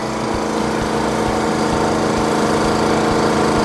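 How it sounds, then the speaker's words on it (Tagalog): A solar backup generator engine runs steadily and loudly, a dense continuous mechanical drone with a chugging low end that holds level throughout. "Yan, narinig nyo, lumalakas yung andar ng generator"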